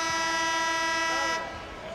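A runaway train in a TV movie promo sounds a long sustained horn blast with rich harmonic tones over rail rumble, then the horn cuts off and only a lower rolling noise remains.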